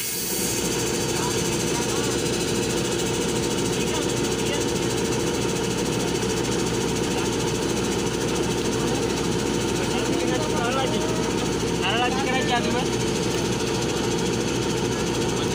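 A borewell drilling machine bores a new well on a farm, its engine droning and hammering loudly and continuously without letup, with faint voices now and then.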